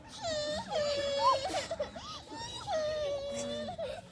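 A person imitates a small baby crying, voicing wavering, whimpering wails in two long bursts with a short break between them, loud and close, during a children's sound-imitation game.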